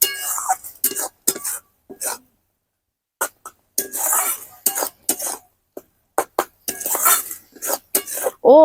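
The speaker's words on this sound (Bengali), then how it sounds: "এবার আমি কড়াইয়ের মধ্যে মশলাটাকে দেব, দিয়ে আমটাকে আরো কিছুক্ষণ ধরে ফোটাবো।" A metal spoon scrapes and clatters in a wok while spice paste is stirred into raw mango jelly with jaggery, coming in uneven bursts separated by short silences.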